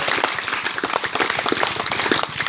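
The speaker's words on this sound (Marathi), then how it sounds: "सर्वांनी टाळ्या वाजवा एकदा" An audience claps together in quick, dense, continuous applause for a few seconds, loud and close, with no voices over it.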